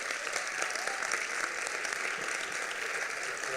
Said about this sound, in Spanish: os pediría un fuerte aplauso para ellos